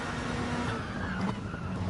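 A GR3 race car in a racing video game runs flat out near Kyoto, its engine roaring steadily and loudly at full throttle for the whole stretch, with no talking over it.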